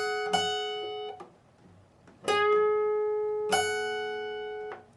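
Electric guitar playing the third section of a solo slowly: three separate ringing notes or double-stops, each plucked and left to sustain, with gaps between them.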